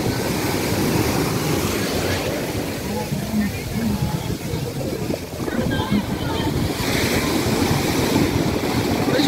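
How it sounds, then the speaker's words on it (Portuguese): Rough, heavy sea at the lighthouse island off Arraial do Cabo sends waves crashing and surging continuously near the microphone, with strong wind buffeting and someone speaking over the roar. "Hoje o mar tá bem forte."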